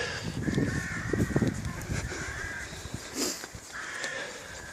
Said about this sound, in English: You can see the rooks continually coming and going over those old farm buildings there